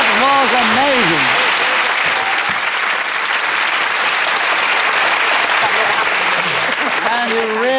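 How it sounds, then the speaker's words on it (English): A television studio audience at a panel game show gives a loud, sustained round of applause, dense and even from start to finish, with cheers and whoops rising above it near the beginning and end. "you really deserve that resounding round of applause"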